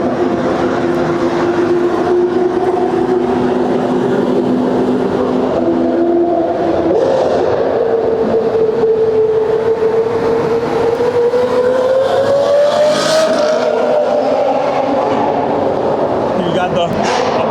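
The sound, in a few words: sports car engine revving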